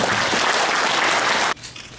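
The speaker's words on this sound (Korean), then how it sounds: "박수 부탁드립니다." An audience at a Buddhist forum bursts into loud, dense applause that holds steady and then cuts off abruptly, leaving quieter room noise.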